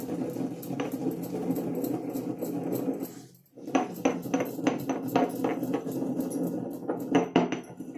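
Hair-oil ingredients pounded into powder, likely with a pestle: steady rhythmic thuds and clinks, close and fairly loud, with one short pause midway before the pounding resumes.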